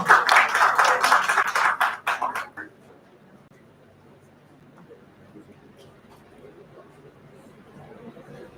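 Hackathon ceremony audience breaks into brisk, loud applause with some chatter for about two seconds, then it cuts off sharply into a quiet room with faint murmuring and rustling.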